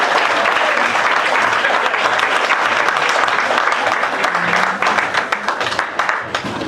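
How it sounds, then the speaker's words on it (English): A large crowd at an awards ceremony claps in sustained, loud applause that thins toward the end into scattered claps. "Let's give Alciedes Catanho another big round of applause."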